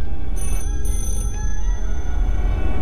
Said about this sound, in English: There's a phone ringing over here.